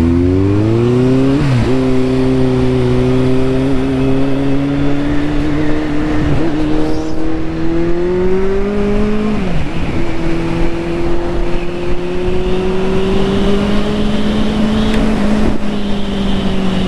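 A Kawasaki Z800 motorcycle engine runs loud and close, its steady droning hum rising and dipping in pitch through several throttle changes without any speech.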